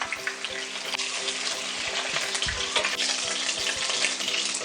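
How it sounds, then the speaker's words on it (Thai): Steady, loud sizzling of pork belly pan-frying in hot oil until golden, with a dense crackle throughout and a few faint clinks of a utensil against the pan. "เราก็จะจี่หมูให้เหลืองสวยแบบนี้นะคะ"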